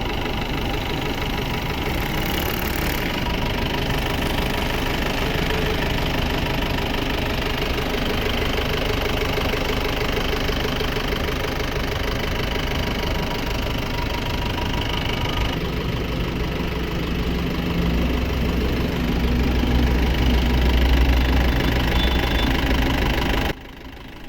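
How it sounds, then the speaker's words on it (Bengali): A Mahindra Big Bolero pickup engine runs at a steady idle after starting, giving a continuous close diesel-like rumble and knock with a slightly deeper low hum near the end. "পাশাপাশি ইঞ্জিনটি স্টার্ট করে ইঞ্জিনের সাউন্ড এবং টিউনিং"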